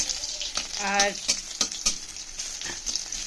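Dry red chillies and garlic fry in hot oil as a tempering for water spinach, crackling steadily up close while a spoon clatters, with a brief spoken word over the sizzle.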